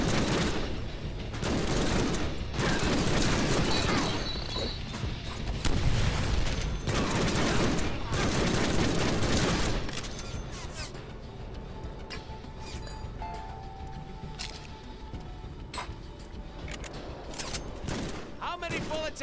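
Sustained automatic gunfire rattles loudly for about ten seconds in the Deadpool video game, then drops to quieter scattered shots and mechanical game noise, with a voice talking over parts of it.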